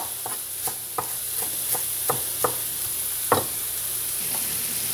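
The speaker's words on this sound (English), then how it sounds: "So the pork is cooking pretty good." Pork sizzles steadily in a hot pan for a po' boy, a soft continuous frying hiss broken by sharp clicks and knocks as it is stirred and turned, close by with no talking.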